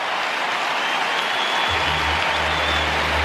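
A big crowd roars loudly and continuously for a goal at an AFL match between Fremantle and Geelong in 2023, a dense wall of cheering and applause with no break.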